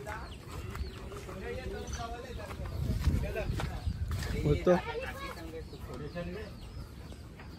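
Rooster clucking as it is chased on a hillside, short excited clucks scattered amid close, busy talk and footsteps, with a louder scuffle near the middle.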